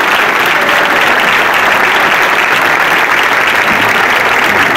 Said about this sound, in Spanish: darles un fuerte aplauso